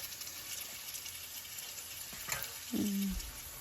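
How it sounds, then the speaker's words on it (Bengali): Fish dropped into hot spice masala in a pan, a sudden loud sizzle after a quiet stretch, with a small clink just before. "আর এইখানে আমি মাছটা দিয়ে দিচ্ছি মশলার মধ্যে"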